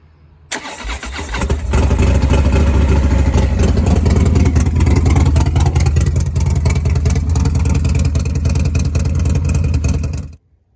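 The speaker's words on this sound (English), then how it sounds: "I'm gonna fire this thing up, start it up and get a little sound clip" A Harley-Davidson Dyna with an S&S 110ci engine cranks and catches, then settles into a loud, steady, throbbing idle close by for about ten seconds before cutting off abruptly.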